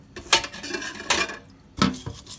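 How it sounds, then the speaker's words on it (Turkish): A brush scrubs plates in a little water before they go into the dishwasher, giving several rough bristle strokes with clinks of crockery, close and clear without talk. "Bir kabın içerisine birazcık su koyduktan sonra bulaşık makinesine koyacağımız tabakları ve böyle bir fırçayla"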